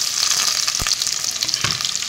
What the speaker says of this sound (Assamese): তাৰপিছত পিঁয়াজখিনি এয়া দি দিছোঁ